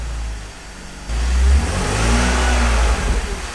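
A car engine with an aftermarket Magnaflow catback exhaust revs up from a low idle into a loud, deep, throaty exhaust roar that holds steady, close by.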